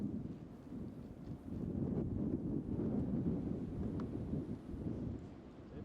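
Wind gusts buffet the microphone on an open disc golf course during a tournament round, a steady low rumbling roar that swells and eases across the whole stretch with no talking.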